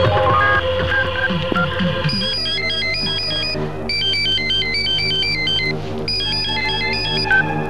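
A telephone ringtone sounds as a call is placed. It plays a bright, repeating electronic melody, loud and close, in bursts after a brief stretch of background music and sound effects.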